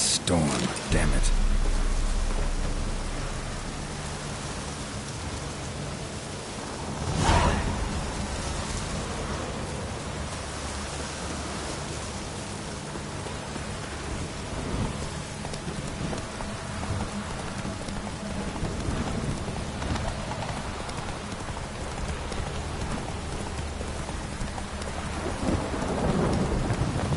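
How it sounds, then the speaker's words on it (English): In The Witcher 3 game world, a thunderstorm brings steady heavy rain throughout. Thunder rolls loudly near the start and again mid-way, and a character's voice is heard partway through. "A storm, damn it."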